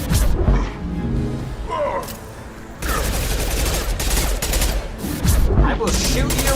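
Dense rapid gunfire from the video game Mass Effect 2, loud, close and sustained in bursts, with a brief lull midway before heavy automatic fire resumes.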